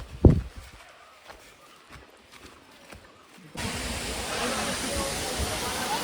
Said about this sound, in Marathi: हा बघा, हा तो धबधबा आहे